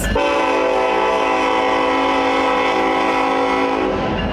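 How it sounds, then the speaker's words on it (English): A loud, sustained train horn blasting steadily at a crossing, close by and unbroken for several seconds, with the rumble of the passing train beneath it. "Since the trains won't cross in front of cars or pedestrians, they won't have to blow their horns."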